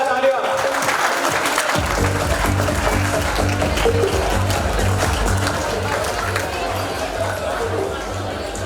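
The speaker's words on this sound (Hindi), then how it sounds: "तालियां तालियां." Audience applause at an Independence Day UMANG 2024 stage event: a sustained wash of clapping from a crowd, with voices mixed in throughout.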